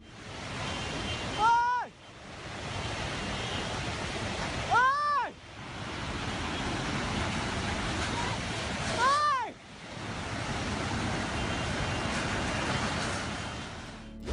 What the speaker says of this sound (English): Within a matter of seconds, the entire area is flooded.